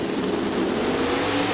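Drag race cars, a Procharger-boosted car against a turbocharged entry, accelerate at a World Cup Finals drag event, a loud steady engine roar filling the whole stretch without letup.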